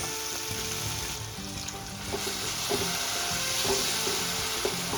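Tomato rice masala roasting in a pan with a splash of water, a steady close sizzle with occasional scraping stir clicks that grow slightly louder toward the end.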